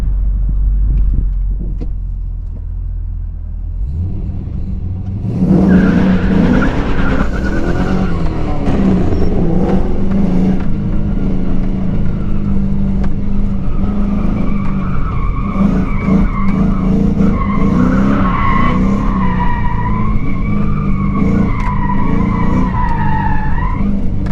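An LS V8-swapped Mazda RX-8 roars into a burnout after a quiet idle, its tires screeching in long wavering squeals over the throaty engine, loud and close for about twenty seconds.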